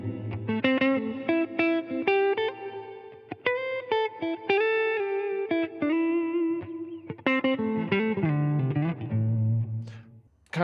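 An electric guitar with effects plays a minor 7 arpeggio as separate plucked notes moving through chord tones, loud and close with no talking.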